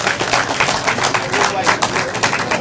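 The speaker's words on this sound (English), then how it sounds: "Let's give Tommy a big round of applause" A crowd claps in a dense, steady patter of applause, fairly close, with cheering voices mixed in.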